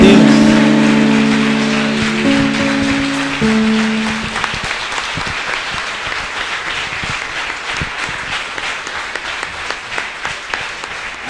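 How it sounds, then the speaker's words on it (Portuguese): Church congregation applauding at a communion service, dense clapping that starts over a sustained musical chord and tapers gradually, thinning toward scattered claps near the end. "Vamos aplaudir Jesus bem forte"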